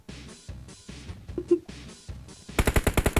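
Gunfire in the mobile battle royale game PUBG Mobile: repeated single shots ring out, then a rapid automatic burst of evenly spaced loud reports closes the moment.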